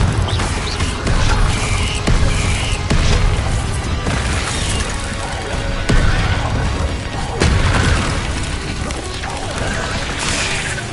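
Confringo blasting spells exploding in a Harry Potter game, a run of heavy booms and crashes sounding again and again over a constant loud rumble.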